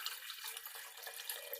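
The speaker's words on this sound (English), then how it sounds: "we're going to fill this jar about 3/4 of the way with the warm water." Warm water runs into a glass jar with a soft, steady hiss and splash, quiet and close, continuous throughout with no voices.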